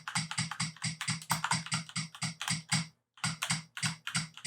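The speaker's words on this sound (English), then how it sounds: "This is a keyboard tester, but I can just go through here with all my keys." Keys pressed in quick succession on a Corsair K70 mechanical keyboard, a close, steady run of crisp clicky clacks with one short pause, no talking.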